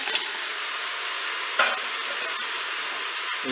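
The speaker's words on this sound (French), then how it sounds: "Maintenant je vais ajouter mes légumes. Je vais mettre les carottes," Carrots dropped into filet mignon browning in a Cookeo multicooker, a steady broad sizzle and hiss with a brief clatter as the vegetables go in, close and even, no voices.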